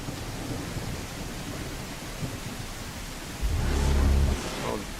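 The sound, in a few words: thunderstorm with rain in video game Stars and Empires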